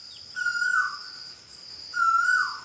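A cuckoo (koel) calls twice at dawn in a village, each a clear rising note followed by a short slide down, spaced about a second and a half apart over a steady high insect hum.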